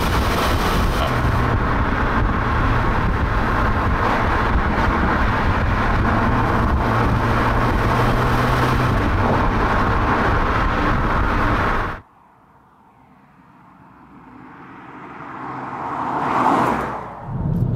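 A Skoda Octavia vRS drives along with a steady engine drone and road roar for about twelve seconds, then cuts to a quieter pass where the engine note swells and fades.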